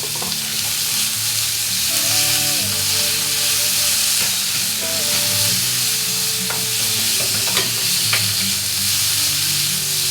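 Bitter gourd and potato pieces sauté in a pan with salt and turmeric, giving a steady close sizzle of frying under intermittent stirring and scraping through the whole stretch, with no talk.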